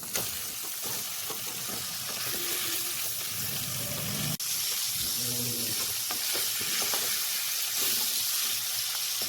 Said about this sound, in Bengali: ফুলকপির টুকরোগুলো কিন্তু আমি বেশি লাল করে ভাজবো না, সামান্য লাল হলেই নামিয়ে নেব